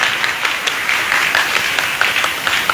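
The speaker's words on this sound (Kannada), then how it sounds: "ಜೋರಾದ ಚಪ್ಪಾಳೆ ಮುಖಾಂತರವಾಗಿ" Applause from an audience at a religious gathering in Gadag honoring a guest with a garland and blessing, steady dense clapping with scattered sharper claps throughout, moderately loud.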